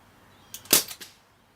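Crosman 1077 air rifle fired once with a silencer, a single short, muffled pop with a brief mechanical clatter around it, close and alone in a quiet room.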